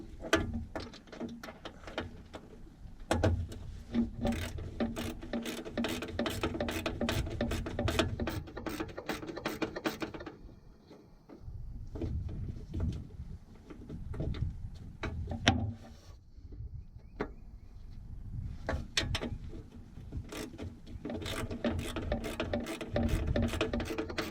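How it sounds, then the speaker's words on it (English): A wrench works on a 1947 GMC EC303 truck, rapid repeated ratcheting clicks in bursts with short pauses, close and moderately loud. "Grab the wrench and see if it'll feed."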